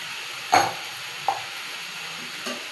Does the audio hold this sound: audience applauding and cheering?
no